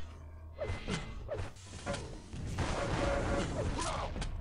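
Sharp weapon shots in a Quake pro league duel, including a railgun blast, come as several punchy bursts over a steady background of game effects and noise.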